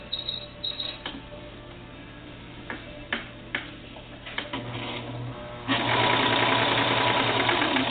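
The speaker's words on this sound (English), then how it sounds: "start serging." A serger sewing machine stitches doll bloomers, opening with a few scattered clicks and taps before the motor starts and runs in a fast, loud, steady whir to the end.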